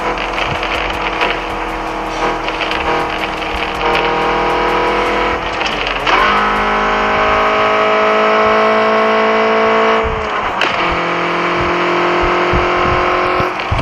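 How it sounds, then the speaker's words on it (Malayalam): A car with a modified exhaust revs hard after a downshift, a loud close engine drone that rises in pitch, drops at the gear change and climbs again, with no talk. "ആ ഗിയർ ഡൗൺ ആക്കി ഇങ്ങനെ ആക്സിലേറ്റർ കൊടുക്കുമ്പോൾ സൗണ്ട് കേട്ടോ"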